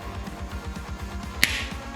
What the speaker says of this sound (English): I'm gonna snap my fingers.